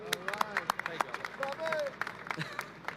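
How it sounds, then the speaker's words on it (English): Scattered claps from a small audience at a flag-raising ceremony, irregular and fairly sparse, with some squeaky chatter and movement. "Please give a round of applause to Assemblymember Robert Carroll, please."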